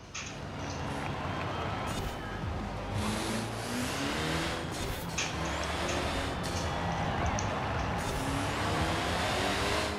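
Car engine in Forza Horizon 4, believed to be a 4x4, driving through Edinburgh, a steady loud rumbling drone with shifting revs and brief bursts of higher noise throughout.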